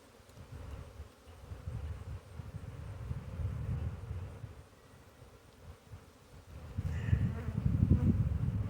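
Dense, droning buzz of many honey bees close by at a Layens hive, swelling and fading in waves, with soft rustling underneath.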